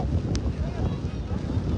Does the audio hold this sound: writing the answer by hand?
no